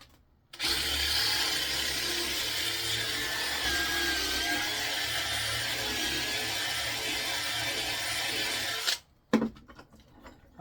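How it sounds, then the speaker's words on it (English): A power drill bores a hole into a small wooden stick for a bee hotel, giving a steady, loud, continuous grinding whir that runs for about eight seconds and then cuts off, followed by a few brief knocks. "going to drill a hole in this as well"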